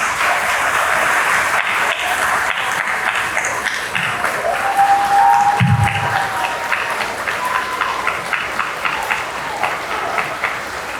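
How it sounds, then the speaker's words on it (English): A large audience at a commencement ceremony applauds steadily throughout, dense clapping filling the room with brief voices or cheers rising in the middle. "let's honor them by giving them a big round of applause."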